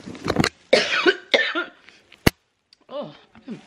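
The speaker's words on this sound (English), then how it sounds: "I've been coughing a lot today" Several sharp coughs in bursts, close to the mic, with brief throat-clearing sounds and quiet voiced noises between them.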